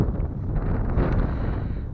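Wind buffets the microphone in a continuous low, rumbling roar throughout.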